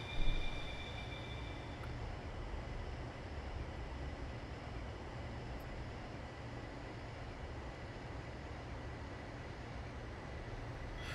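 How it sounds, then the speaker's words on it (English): An OEBB 4023 electric multiple-unit train in Train Simulator on the Three Country Corner route, running at speed with a steady, low, even rumble and wheel noise that stays quiet and constant throughout, with no talking. "I've got this horrible suspicion that this train is not supposed to be going at this kind of speed."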